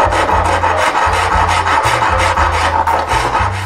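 A thin metal strip is worked flat for a cabochon stone mount, making a loud, close rasping rub that repeats in quick rhythmic strokes with no pauses.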